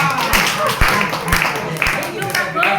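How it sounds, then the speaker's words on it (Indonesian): Audience applause at a gathering of blind people in Banyumas, scattered claps and taps mixed with voices talking over them, close and uneven. "Update ya, tepuk tangan."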